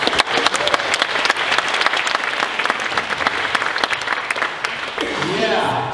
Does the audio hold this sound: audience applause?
yes